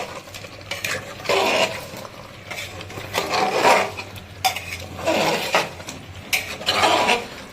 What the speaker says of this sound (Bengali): করে দিচ্ছি ভালো করে মিক্স।